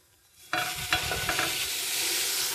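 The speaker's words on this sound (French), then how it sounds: "on la dépose sur une poêle bien chaude" Batter-soaked slice of vegan French toast is laid into a very hot pan and bursts into a loud, sustained sizzle after a short quiet moment, with a few crackling pops in the first second.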